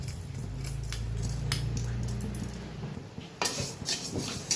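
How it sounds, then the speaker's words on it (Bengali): Moong dal dry-roasts in a hot wok, its grains shuffled by a spatula with soft rattling scrapes over a low hum, and a few louder metallic knocks near the end. "মুগ ডালটা ভেজে নেব।"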